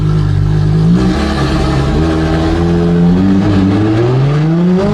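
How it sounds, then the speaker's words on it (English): A Ferrari LaFerrari drives hard, its loud engine filling the cabin with a steady roar that climbs in pitch as it accelerates. "Driving in the LaFerrari."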